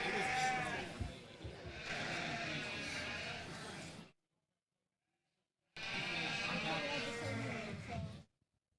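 Dorper ewes bleating at a livestock show, close and loud in two long stretches separated by a silent gap, with busy arena chatter and voices mixed in.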